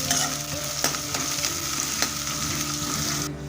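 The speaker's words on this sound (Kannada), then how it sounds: "ನೀರುಳ್ಳಿ, ಕರಿ ಕೆಂಪು ಫ್ರೈ ಆವಾಡು" Onion, curry leaves and dried red chili fry in hot oil with a steady close sizzle, punctuated by a few sharp spoon-stirring clicks, with no talking.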